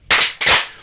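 Two sharp hand claps about a third of a second apart, loud and close, each ringing out briefly, with no talking.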